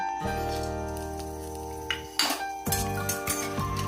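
Utensil stirring chicken in a wok over fried whole cardamom, cinnamon, cloves and bay leaves with browned onions, giving a steady scraping and clinking rhythm, then a few sharper metallic knocks near the end, close and alone.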